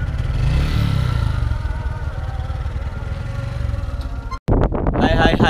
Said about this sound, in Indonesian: Villa, starter kuat sedikit.